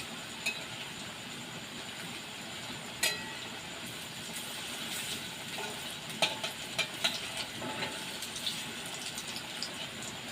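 Jackfruit seed fritters (bora) frying in oil, a soft continuous sizzle broken by occasional sharper crackles and clicks as the fritters are turned.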